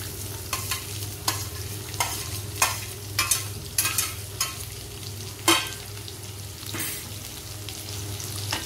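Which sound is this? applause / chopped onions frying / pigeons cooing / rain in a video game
chopped onions frying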